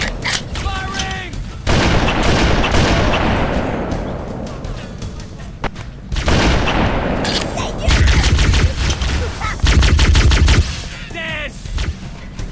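Heavy bursts of weapon gunfire in the Halo video game, loud repeated volleys and rapid automatic fire in several waves, with brief gaps between them and a voice calling out over the shooting.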